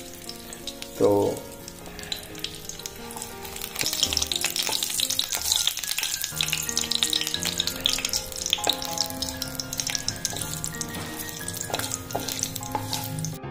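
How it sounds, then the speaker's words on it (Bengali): Whole spices, dried red chillies, cinnamon, cloves and cardamom, hit hot mustard oil in a kadai for dahi paneer: a sharp thump, then a loud, steady crackling sizzle that keeps going, with a brief spoken word at the start. "কড়াতে দেখতে পাচ্ছ তেল গরম হয়ে গেছে। এবার আমি এই যে ফোড়নের সামগ্রী নিয়ে নিয়েছি।"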